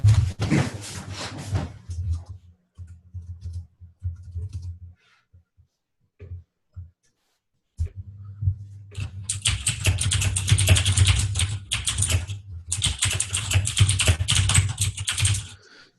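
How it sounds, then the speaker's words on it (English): Clacky computer keyboard typed in steady bursts, close and fairly loud, with a pause in the middle before rapid continuous typing resumes; no talking. "You got a clacky keyboard"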